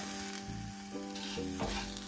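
Spices sizzle and crackle steadily in a hot pan while cooking mutton sukka, close and continuous, with a faint tonal hum underneath.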